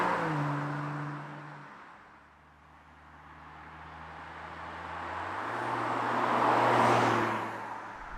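A 2021 BMW M440i xDrive coupe on sticky Pilot Sport tires drives at speed, its engine note rising and falling through gear changes under a strong roar of wind and road noise.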